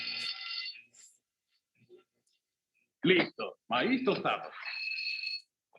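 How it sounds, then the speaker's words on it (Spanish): A cartoon fire alarm rings in short electronic bursts at the start and again near the end, bright and steady-toned, with animated characters talking between the rings. "Oye, es la alarma de incendio."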